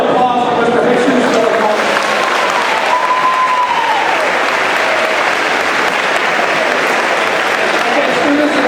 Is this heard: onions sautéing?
no